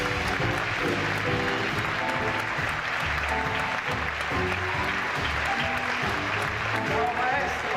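Loud, continuous audience applause greets a maestro as he walks on stage, a dense clapping roar mixed with music and voices throughout.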